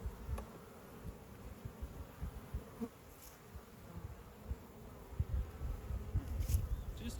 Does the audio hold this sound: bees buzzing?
yes